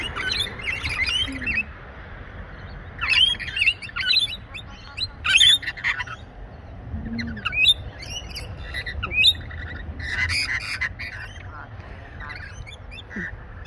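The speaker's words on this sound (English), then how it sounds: "The parrot is happy." A parrot gives repeated short chirps and squawks in scattered bursts over a low background hum, with quiet talk passing intermittently.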